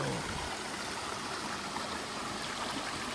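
Snowmelt-fed mountain stream rushing through Andreas Canyon near Palm Springs, California, a steady broadband wash of flowing water heard close and continuous with no voices.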